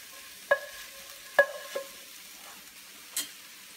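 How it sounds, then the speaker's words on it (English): Steamed vegetables and tofu are tossed in a pan for teriyaki tofu: a few separate metallic clinks and scrapes ring out over a faint, quiet sizzle. "Just toss our vegetables with the tofu."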